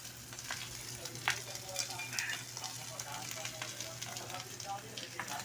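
Crab and shrimp sauté in a hot pan, giving a steady close sizzle and frying hiss, with occasional scraping and stirring sounds as the pieces are turned.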